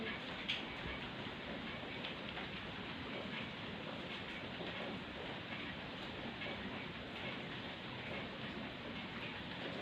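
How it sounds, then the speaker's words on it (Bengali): Rain falls outside after an early-morning start, a steady broadband patter and hiss holding an even level throughout with no talk. "ভোর থেকে বৃষ্টি হচ্ছে"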